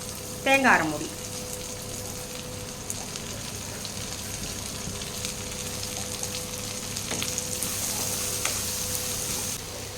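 Steady sizzle of poppy seeds and coconut frying in a pan for white peas kurma, a continuous hiss with a brief sharp scrape near the start.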